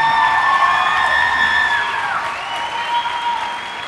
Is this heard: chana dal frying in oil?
no